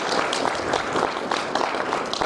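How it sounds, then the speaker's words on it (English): A large audience at a youth leadership summit applauds with a dense, steady wash of clapping, loud and close, sustained for the full couple of seconds without speech. "If we could kindly just please give another round of applause."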